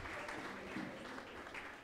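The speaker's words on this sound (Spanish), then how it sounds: "Otro aplauso para Soleil." A church congregation applauds briefly during a sermon gathering, a soft, steady wash of clapping heard at a distance and fairly faint.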